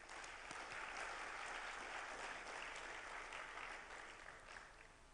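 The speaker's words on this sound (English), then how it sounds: "So a round of applause, please." A congress audience in Jakarta applauds steadily for about five seconds, a dense, even wash of many hands clapping that fills the room and fades slightly toward the end, with no talking over it.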